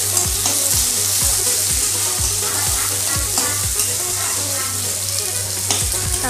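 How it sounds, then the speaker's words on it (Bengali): Chopped tomatoes sizzling in hot oil in a pan, a continuous close sizzle with a steady hum underneath and regular scraping strokes of a spoon stirring. "এখন আমি দিয়ে দিচ্ছি টমেটোগুলো।"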